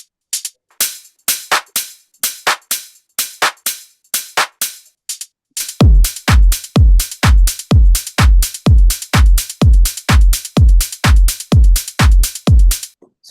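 Hi-hat group side-chained so it pumps hard: a steady run of crisp, bright hat hits, sparse at first, then joined by a deep kick-driven pulse that makes each hit swell and duck in a tight repeating rhythm.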